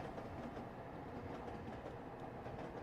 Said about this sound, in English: I wonder if it stops at the train yard or if it just yeets through.